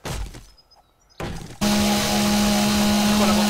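In the game 7 Days to Die, a chainsaw starts cutting into a bridge: a few short revving bursts and a pause, then a loud, steady high whine with a strong droning hum that holds to the end.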